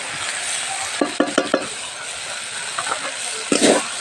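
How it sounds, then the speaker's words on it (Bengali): Taro flowers fry in a pan with cumin powder, a soft steady sizzle broken by several sharp scraping stirs of a spatula, close and without talk. "বন্ধুরা অনেকক্ষণ ধরে ভাজছি। আর এবার একটু জিরের গুঁড়ো দিয়ে দেব।"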